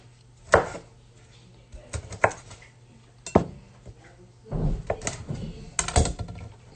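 A knife chops through food on a cutting board in a home kitchen, several sharp separate strikes at first, then a quicker run of cuts near the end, close and fairly loud against a low steady hum.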